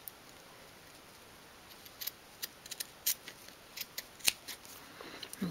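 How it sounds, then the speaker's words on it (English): Scissors snip the corners of fabric for a 1/12th scale dolls house sofa, a series of sharp, close, irregular clicking cuts that grow more frequent toward the end against a quiet background. "along the top here we can snip our corners again"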